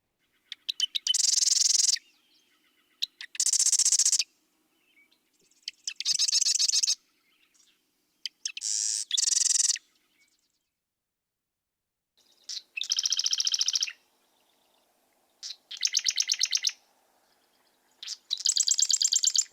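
Two regional dialects of the same bird's song, western then eastern, come as a series of bright, clear phrases separated by silent gaps, each burst about a second long and heard alone with no talk.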